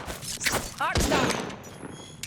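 Gunfire in the Apex Legends shooter: a loud burst of rapid shots, then a heavy report and more firing with thuds, all close and punchy.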